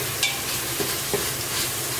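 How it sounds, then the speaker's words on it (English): Onions sizzle in a pan on the stove while dal is being made, a steady close hiss of frying with a few faint clicks of stirring, no talking. "onions are sizzling."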